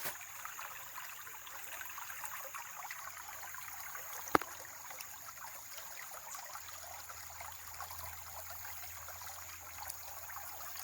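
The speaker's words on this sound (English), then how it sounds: "And here's the creek down here." A small creek on a wooded rural property after hurricane damage trickles and burbles softly in the distance, a faint steady wash of flowing water with one sharp click partway through.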